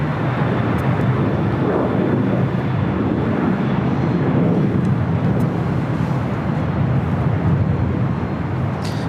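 A passenger airliner rolls for takeoff on runway 25 right at LAX, its engines producing a loud, steady, broad roar that holds throughout with a low rumble underneath.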